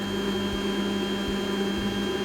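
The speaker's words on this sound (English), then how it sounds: "The hide powder is added and mixed for 2 minutes using a hand blender." Hand blender whirring steadily while mixing hide powder into water in a beaker, a constant close motor hum with a few faint low bumps.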